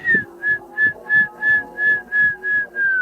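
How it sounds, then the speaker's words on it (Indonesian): A repeated high whistle, about nine short even toots in a steady rhythm, each with a soft low thump beneath, fairly close and clear. "menurut gue kayak suara peluit"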